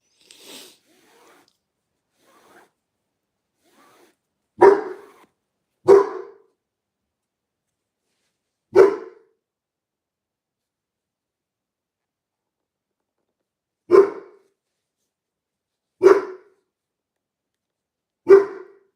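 A dog gives six single, sharp barks spaced irregularly over nearly twenty seconds, loud and close, with quiet gaps between them and no talk.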